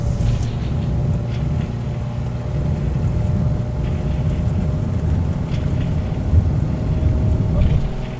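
Simulated Beechcraft Model 18 twin radial engines in a flight simulator takeoff roll, giving a steady, dense low drone with rumbling texture that holds level throughout, no voices.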